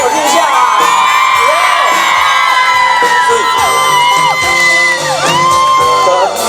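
A crowd at an outdoor Taiwanese-language concert in Linkou, New Taipei, cheers, whoops and screams loudly and continuously, with high shrill voices layered over amplified music throughout.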